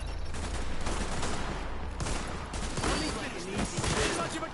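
Sustained gunfire crackles through a firefight in the video game The Division, with dense overlapping bursts from several weapons, loud and continuous for the whole stretch.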